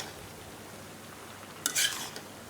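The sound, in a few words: Malabar spinach added to pan with jackfruit seeds, stirred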